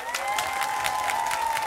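Audience applause at a PROS party political convention, a dense, steady wash of many hands clapping throughout with a sustained tone running beneath it.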